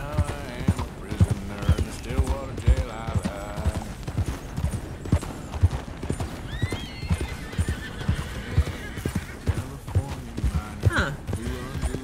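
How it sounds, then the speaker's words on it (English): Steady hoofbeats clip-clop in a brisk rhythm in Red Dead Redemption 2, with a horse whinnying and short spoken remarks mixed in. "Wild horses just roaming about the place."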